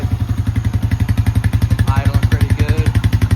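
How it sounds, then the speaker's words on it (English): Honda Rancher 350 ATV engine idling steadily after carburetor replacement, a close, even low pulsing throb with a regular rhythm throughout, with faint voice-like sounds briefly over it midway. "Till it idles on its own. That should sound like"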